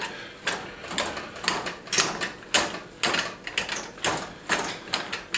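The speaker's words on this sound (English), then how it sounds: "I'm going to mash them up with my trusty masher" Boiled potatoes, about a kilo, are worked with a hand potato masher, giving repeated soft squelching thumps and clacks in an uneven rhythm, fairly close and moderately loud.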